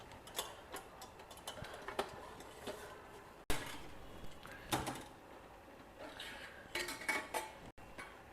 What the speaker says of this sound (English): The cooker pressure has released, so we'll carefully open it and see.